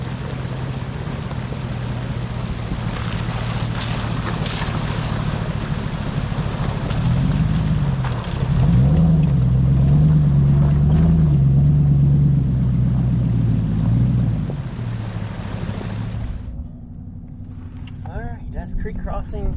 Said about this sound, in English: creek crossing